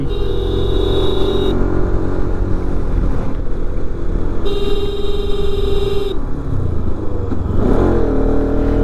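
A motorcycle runs continuously while being ridden along a loose dirt track, its loud, close engine droning steadily with shifts in pitch as the revs rise and fall. No one speaks.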